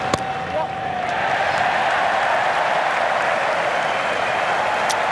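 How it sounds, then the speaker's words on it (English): The Sydney Cricket Ground crowd applauds during an England v Australia Ashes Test match, a dense and steady roar of clapping that holds loud all the way through. "Well appreciated by the SCG crowd."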